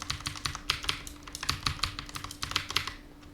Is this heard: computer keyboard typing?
yes